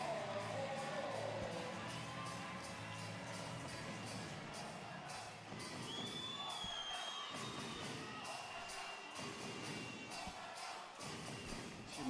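Spectators at a Women's EHF EURO 2014 handball match between Sweden and Croatia roar and cheer after a long-range goal shot, a dense, sustained crowd noise filling the arena throughout with shouts rising above it.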